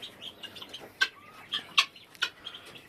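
Hens roosting indoors at night in a small backyard coop of thirteen birds give a few soft, scattered clucks and short calls, spaced about half a second apart, close and fairly quiet.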